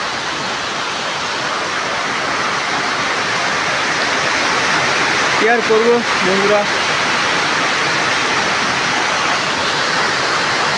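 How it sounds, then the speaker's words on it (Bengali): Heavy rain pours in a dense, constant roar that fills the whole stretch, with a brief spoken remark near the middle. "প্রচুর বৃষ্টি শুরু হয়ে গেল, জানি না এখন কতক্ষণের মধ্যে থাকবে বৃষ্টিটা।"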